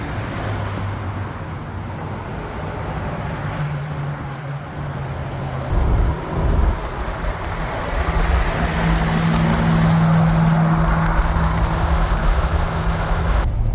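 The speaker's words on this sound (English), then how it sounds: "Well, I'm trying to drive Jonathan's truck home, and it's not happy" An old Ford F100 pickup truck's engine, running rough, rumbles and labors steadily while driving, growing louder and rougher partway through, with low uneven throbbing and road noise throughout.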